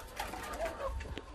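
Doves cooing at a dove breeding farm in Ba Vì, Hanoi, several soft coos over a busy bird-filled background with low rumble, fairly close and steady throughout.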